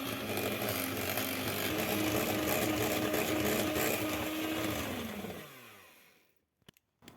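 An electric mixer whips butter with 200 g of cream for a pastry cream filling, running as a loud steady whir that holds, then drops in pitch as it winds down and stops, followed by a few faint knocks.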